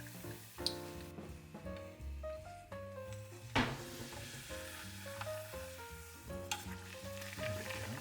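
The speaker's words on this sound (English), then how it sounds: "I'm just going to take the whole tortilla and just put it in the oil" Whole tortilla frying in hot oil for a sopapilla-style treat, a steady crackling sizzle running throughout with a few louder pops and bursts, under background music and no talk.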